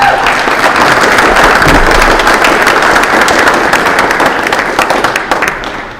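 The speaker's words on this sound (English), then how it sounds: "Give them a round of applause, please" A community audience at a public discussion on policing in Rochester, Minnesota gives a round of applause, dense loud clapping that holds steady before thinning out at the end.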